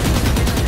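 Dense burst of gunfire in the tactical shooter Valorant, loud and close, with rapid overlapping shots filling the whole brief moment.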